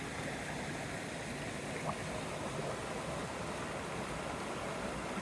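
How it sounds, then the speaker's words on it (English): A river at a hiking-trail crossing in the White Mountains flows with a steady, broad rush of water that stays even and continuous throughout, with no voices. "Another river crossing."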